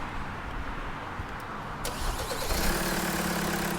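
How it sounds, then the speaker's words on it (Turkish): A car engine cranking to start with a whirring starter that turns over for a few seconds, then the engine catches and settles into a steady, louder running hum close by. "Emre Usta bir marş yap."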